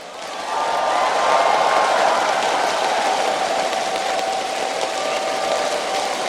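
A large crowd at a League of Legends World Championship final cheers and applauds, a dense continuous roar that swells early and holds steady throughout.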